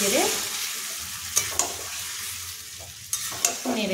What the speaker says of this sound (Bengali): এবার এটাকে নেড়ে